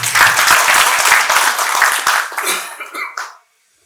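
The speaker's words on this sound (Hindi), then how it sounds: "स्वागत में सबके ताली बजा दियौ।" An audience at a press gathering claps to welcome journalists. The applause is dense and loud, then thins to a few scattered claps and stops after about three and a half seconds, with a cough or two mixed in.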